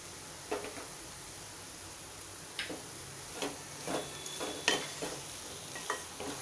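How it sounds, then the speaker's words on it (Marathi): Paneer bhurji stirred in a pan with kasuri methi, a spatula scraping in scattered, fairly faint strokes over a soft steady sizzle, with no talking. "आणि हे छान मिक्स करून घ्यायचं आहे।"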